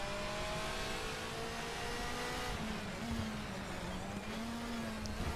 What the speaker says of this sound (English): My car that sounds like a tractor. I've absolutely knackered the gearbox.